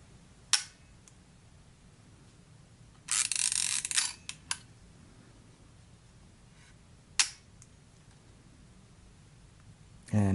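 The film rewind on a Lomo Smena 35mm camera gives a short burst of quiet ratcheting, with a few sharp isolated mechanical clicks before and after in a quiet room.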